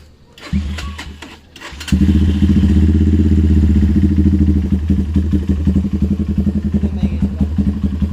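A 200cc motorcycle engine cranks briefly, then catches and roars to life, settling into a loud, steady idle with a throbbing rhythm close by.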